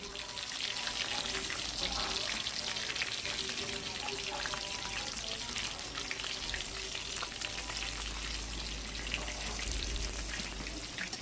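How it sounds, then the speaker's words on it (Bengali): Pieces of hilsa fish fry in hot oil, a steady dense sizzle and crackle running unbroken throughout, close and fairly loud, with faint occasional stirring. "উল্টিয়ে পাল্টিয়ে নেড়ে চেড়ে ভালো করে ইলিশ মাছগুলো ফ্রাই করে নিন"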